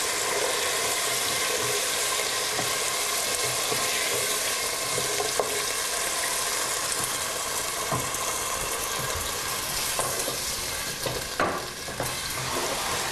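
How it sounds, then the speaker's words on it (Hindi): Loud hissing and crackling fill the clip as water is poured into a hot frying pan of potatoes, a continuous sizzle with occasional sharper pops. "आलू के बाद उसमें थोड़ा पानी डाल दीजिए"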